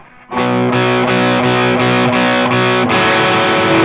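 Distorted electric guitar playing the turnaround of a song: six evenly spaced chugged chord hits, then a longer sustained chord, loud and close with no talking.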